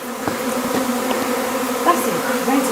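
A loud, dense buzzing of a honeybee swarm taking flight as its cluster breaks up fills the air, steady and close, with individual bees zipping past.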